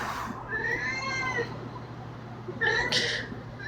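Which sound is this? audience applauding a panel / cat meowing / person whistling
cat meowing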